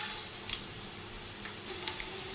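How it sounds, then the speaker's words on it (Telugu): Peanuts sizzling in hot oil in a pan for jowar poha chivda, a steady soft crackle and hiss with small ticking pops, close and alone. "పల్లీలు వేసుకొని ఫ్రై చేసుకుందాం."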